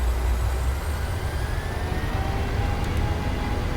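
Jet engines of a PMDG Boeing 737 in a flight simulator spool up toward 50% throttle, a steady, loud roar with rising whine tones, heard alone without talk.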